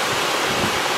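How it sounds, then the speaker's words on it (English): Steady, broadband rushing of falling water at Makeli Ella waterfall in Kalutara district, Sri Lanka, a continuous roar with no breaks or voices. "Makeli Ella, a beautiful waterfall located about 82 kilometers southeast of Colombo in Kalutara district of Sri Lanka."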